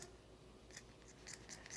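Scissors snip fabric quietly in a few quick, crisp cuts near the end, faint against a soft background hiss.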